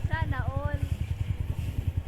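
A motorcycle rides along a narrow mountain path, its engine pulsing in a steady, close chugging rhythm throughout, with a person talking over it early on.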